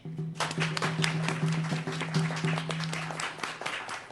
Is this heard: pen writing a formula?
no